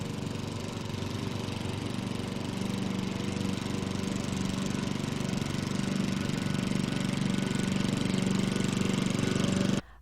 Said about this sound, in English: A gas lawnmower 31 meters or 100 feet away will create a sound level of approximately 75 decibels